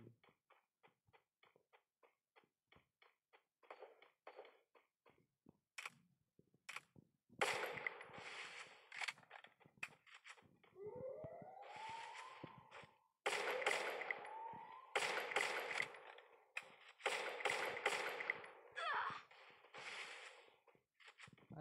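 Gunfire in a Garena Free Fire 1v1 custom match: a long run of sharp, clipped shots, sparse single pops at first, then dense rapid bursts with swooshing game effects, steady and fairly loud with no voices.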